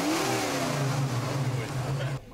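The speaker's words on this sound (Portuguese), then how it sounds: "foi convidado a sentir o motor de um Maverick" A Ford Maverick's engine revs at an indoor exhibition, a loud, rough mid-range roar that rises and holds, then cuts off abruptly near the end, with voices talking underneath.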